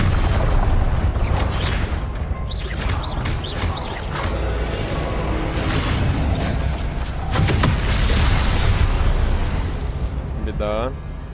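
Spell blasts in Hogwarts Legacy erupt one after another into loud, booming bursts and crackling rumbles, dense and close throughout, with a brief whistling zip near the end.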